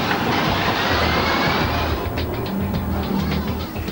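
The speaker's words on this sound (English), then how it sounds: "they fire up the most powerful hydraulic launch system of its kind and hope for the best" A roller coaster fires the most powerful hydraulic launch system of its kind, producing a loud, steady rumbling roar that runs unbroken for about four seconds, with a low throbbing undertone in the second half.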